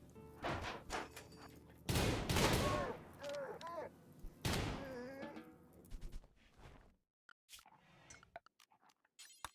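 Powered turrets fire in the video game RimWorld: sharp, loud, overlapping shot bursts in the first half, then scattered softer pops, with a voice talking over parts of it.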